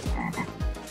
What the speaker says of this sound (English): This frog is fucking intense